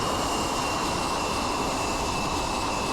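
An F-16 jet engine from a flight video game roars in a steady, loud whine during a landing approach at an airfield, a dense continuous rush with a high tonal hum and no pauses.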